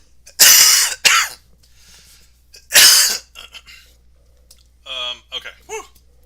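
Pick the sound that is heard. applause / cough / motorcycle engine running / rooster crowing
cough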